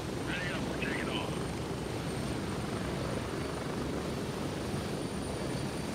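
A military helicopter in the video game Grey Zone Warfare takes off with a loud, continuous rotor and engine roar, and a voice speaks briefly over it near the start.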